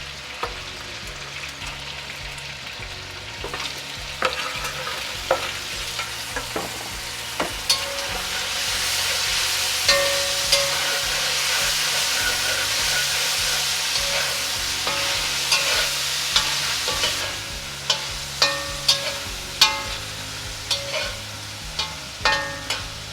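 Skinless chicken thighs for an Indian curry fry in a hot pan, a steady loud sizzle swelling into a big flare, with spoon stirs and clanks punctuating it near the end; no talk.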